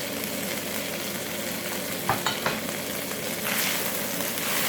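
Vegetables and spring onions stir-fried with noodles for Singapore beef mee goreng, a loud continuous sizzle with a few sharp scraping knocks of stirring in the middle, near and without talk.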